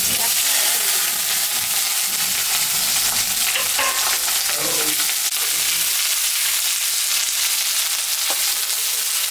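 Cumin, dried chili, bay leaf and chopped onions fry in hot oil for a mutton curry, a dense continuous crackling sizzle close by with faint stirring underneath.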